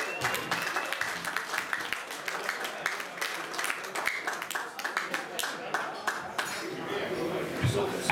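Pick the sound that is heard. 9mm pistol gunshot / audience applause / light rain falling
audience applause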